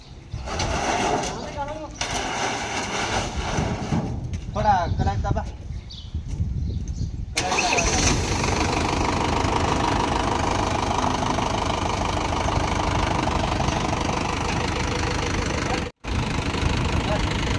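A tractor engine runs at a steady idle, loud and close, with a rough knocking rhythm throughout and a brief break in the sound near the end.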